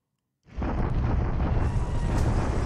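A Japanese naval bombardment in the strategy game War in the Pacific: Admiral's Edition strikes Batavia, breaking the silence with a sudden blast that rolls into a loud, sustained, deep rumble of explosions.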